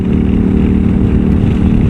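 A KTM 990 SMT twin-cylinder supermoto engine idles close by, a loud, steady low throb with no other sounds.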